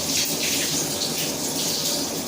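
Cold water running from a bathroom tap after a shave, a loud steady gushing stream splashing into a basin, continuous and close with no talk.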